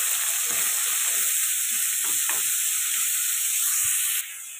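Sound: onions and curry leaves sautéing in a pan

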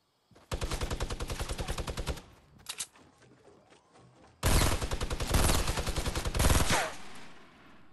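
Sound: shotgun gunfire in the video game Fortnite

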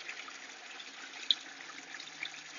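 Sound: water purged from bottom drain of aquaponics filter

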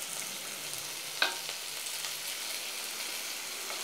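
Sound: ingredients frying in a pan

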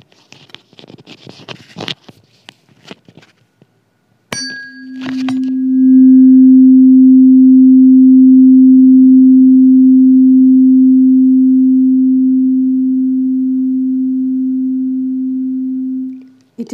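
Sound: air column resonating with a tuning fork

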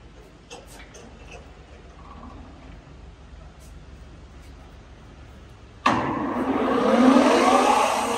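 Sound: Pinacho SP/250 lathe spindle running at 2200 rpm

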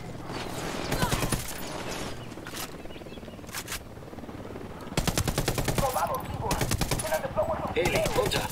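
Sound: gunfire in video game Ghost Recon Wildlands

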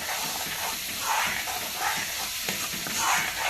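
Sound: spice masala frying red in a pan

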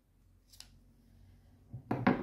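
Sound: scissors cutting gray knitting yarn

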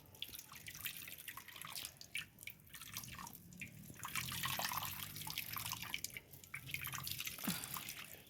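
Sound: banana mixture being poured and strained, dripping liquid

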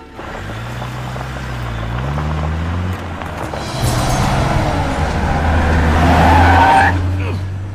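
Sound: car driving off at speed

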